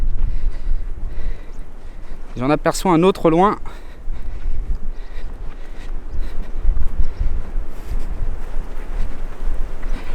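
Strong wind buffets the microphone on the open Biville dunes, a steady rumbling roar that runs through the whole stretch, with someone speaking briefly over it near the start.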